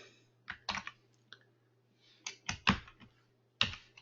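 Clicky taps on a computer keyboard come in a few quick clusters with quiet gaps between them, close up over a faint steady hum.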